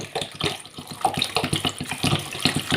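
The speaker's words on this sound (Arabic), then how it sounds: "هننزل بالميه بالشكل ده كده" Water poured from a container into a pot of orange peels, a steady close splashing and gurgling stream lasting a few seconds with no talking.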